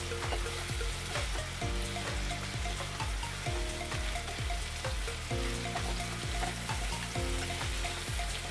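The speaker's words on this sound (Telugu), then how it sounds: "మనకి ఆయిల్లో బిర్యానీ ఆకు అనేది ఎంత వేగితే అంత బిర్యానీ టేస్ట్ బాగుంటుందండి." Bay leaves sizzling and frying in hot oil in a pan while cooking veg biryani, a steady crackling sizzle with repeated stirring scrapes throughout, close and continuous.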